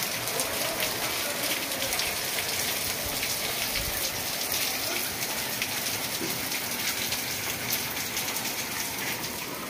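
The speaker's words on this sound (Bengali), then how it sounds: "সকাল থেকে মুষলধারে বৃষ্টি চলছে" A torrential all-morning downpour roars in a constant, even wash of rainfall, close and loud from start to finish with no talking over it.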